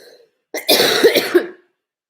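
A single short, harsh cough with a throaty rasp, close to the listener, preceded and followed by near silence.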